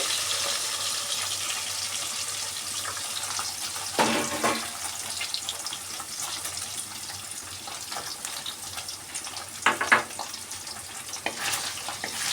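Paneer pieces fry in oil with a little water and a pinch of salt for a vegetarian navratan dish, giving a steady, close sizzle that swells into louder crackling bursts twice.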